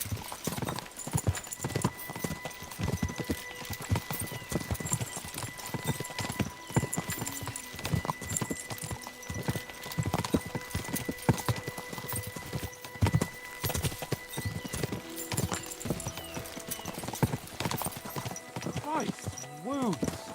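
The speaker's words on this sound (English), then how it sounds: "We should spur the horses on." Horses' hooves clip-clop at a steady trotting rhythm throughout in the medieval video game Kingdom Come: Deliverance, loud and close over game music, with a horse's whinny near the end.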